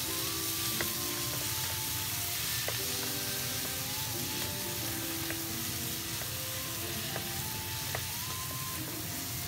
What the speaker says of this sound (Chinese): 锅烧热，放油，再放葱花炒香， 加入切好的西红柿